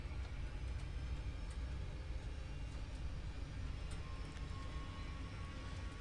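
Boeing 737 engines spool up to take-off thrust on a twin-engine jet during the take-off roll, a steady broad roar with a dense low rumble that holds evenly loud throughout.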